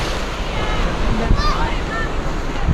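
Surf washes steadily onto a beach on Mykonos, Greece, a close, continuous rushing wash mixed with wind noise on the microphone.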